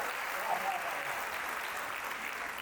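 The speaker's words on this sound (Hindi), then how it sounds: "मुझे आपकी तालियां कमजोर नजर आ रही है" Clapping from an audience at a Hindi kavi sammelan poetry recital, an even, sustained wash of hand claps at moderate level with no pauses, heard alone.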